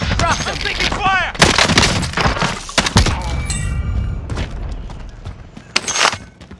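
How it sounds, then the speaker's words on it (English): Heavy gunfire in a helicopter combat video game: sharp, loud shot bursts and booming impacts crackle repeatedly over a steady rumble, with a few distant ringing tones between volleys. "Taking fire!"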